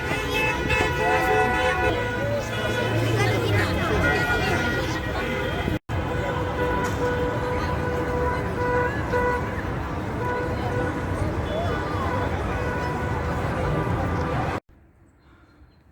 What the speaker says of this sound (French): il y a plein de klaxons